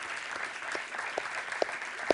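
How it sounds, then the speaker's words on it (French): An audience at a public event marking the InSight Mars landing applauds, a soft, steady wash of clapping heard from some distance with a few sharper individual claps standing out. "que vous pouvez applaudir"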